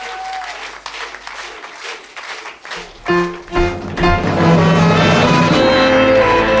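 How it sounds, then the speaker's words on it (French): Audience applause at an award ceremony for public services: clapping and crowd noise swelling in the second half, loud and dense, after an opening stretch of lighter sounds and scattered claps. "On peut les applaudir bien fort, s'il vous plaît."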